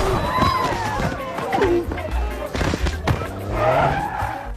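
A Damri bus skids and strikes a man in a film scene: dense tire squeal and skidding noise with heavy low engine rumble and sharp impact bursts, loud and close throughout.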